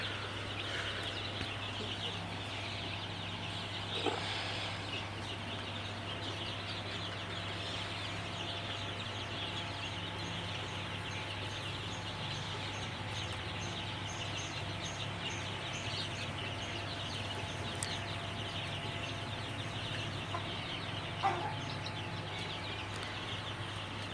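Eleven-day-old Sonali super hybrid chicks, some of them sick, give faint, scattered cheeps and clucks in a farm shed over a steady low fan hum.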